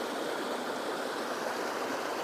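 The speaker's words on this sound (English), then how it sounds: "Water flowing all down this granite." Steady rushing water pouring and splashing continuously down granite rock, a broad even hiss close by with no voices.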